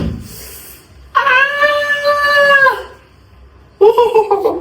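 A domestic chicken calls loudly at close range: a long, wavering, drawn-out cry of about one and a half seconds, then a second similar call starting near the end, with quiet between.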